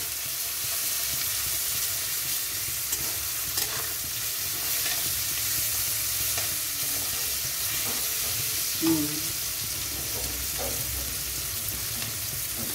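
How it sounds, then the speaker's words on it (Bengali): Green chillies and tomato frying in a pan give off a dense, steady sizzling hiss, with occasional soft scrapes of stirring over a continuous close crackle and no talk. "দেখুন এগুলো ভাজা হচ্ছে।"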